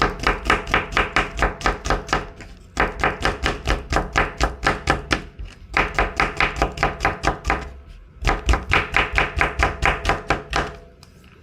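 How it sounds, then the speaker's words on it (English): Knife chopping ingredients for nikujaga on a cutting board in a Japanese kitchen: rapid, steady runs of light taps in four bursts with brief pauses, close and clear with no talking. "Just gonna lightly chop them."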